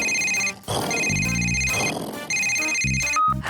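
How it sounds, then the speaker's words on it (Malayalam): A cartoon telephone rings with a bright electronic ringtone in repeated bursts, interrupted by short musical and effect sounds between the rings. "ഞാൻ ഇപ്പൊ തന്നെ സർവീസ് സ്റ്റേഷനിലേക്ക് ഫോൺ ചെയ്യാം."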